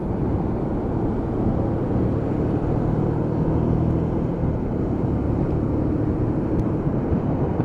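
A Lexmoto Michigan motorcycle engine drones steadily while pulling away on a ride, a continuous loud rumble mixed with road and wind noise, with no talking.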